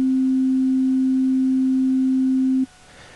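Synthesizer sine tone held with sustain at maximum, a pure steady hum at constant loudness for about two and a half seconds before cutting off abruptly to near silence.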